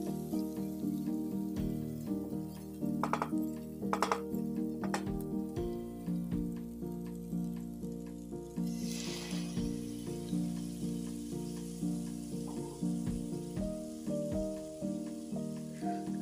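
Green peppers (capsicum) frying in a pan for Kenyan matoke, a steady sizzle throughout with occasional stirring clatters and knocks.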